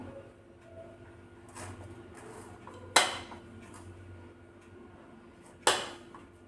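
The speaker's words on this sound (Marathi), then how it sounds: "तर मी दुसऱ्या चमच्याने याला टॅप टॅप करते" Spoon tapping on a layer of vermicelli barfi being set in a dish: two sharp metallic clinks a few seconds apart, fairly close, over a low background hum.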